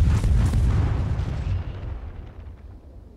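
A heavy naval gun salvo fires in the World of Warships game, a loud deep boom with a rumbling tail that fades out over a few seconds.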